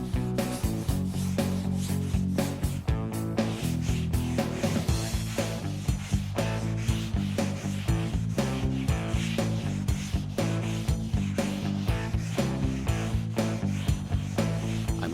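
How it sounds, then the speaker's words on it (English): A car body is block-sanded by hand with a 16-inch sanding block loaded with 120-grit paper. Continuous close, rhythmic rasping strokes repeat back and forth at an even pace. "This time I've got a 16-inch sanding block and it's loaded again with 120 grit."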